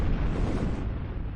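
A bomb explosion sound effect plays on a livestream as a steady, dense low rumble that fills the whole moment without a clear sharp onset, with no speech over it.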